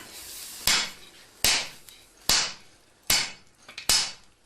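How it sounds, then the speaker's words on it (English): A mechanical hammer pounds folded layers of pure steel flat for a samurai sword blade, five heavy, ringing blows landing at an even pace about a second apart, loud and close. "The last folds have to be flattened with a mechanical hammer."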